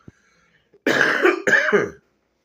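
A single close cough bursts out after a brief silence, two rough harsh bursts of throat-clearing cough, loud and alone with no talking.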